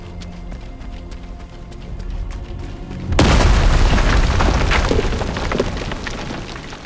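A bunker blown apart in Sniper Elite 5: a sudden loud, close boom erupts after a quieter stretch of ambient game sound, followed by a long roaring rumble with scattered debris crackle that slowly fades.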